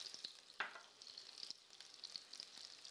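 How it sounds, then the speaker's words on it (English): Sliced onions and garlic fry in a pan with a steady bright sizzle, broken by a few scraping knocks as they are pushed around; no talking. "All my onions go in. Push those around the pan."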